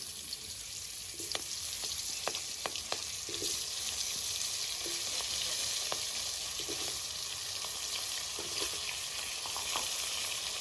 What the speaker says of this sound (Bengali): আমার তেলটা গরম হয়ে গেছে, এবার আমি একটা একটা করে পটল এর মধ্যে দিয়ে দেবো।